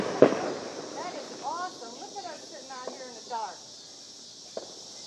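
Fireworks pop during the 2017 total solar eclipse in Arnold, Missouri. One sharp bang comes near the start and a fainter crack follows later, while people talk outdoors over a steady insect hum.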